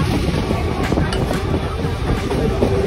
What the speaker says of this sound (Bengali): আমাদের ট্রেন এখন ঢুকছে নামখানা স্টেশনে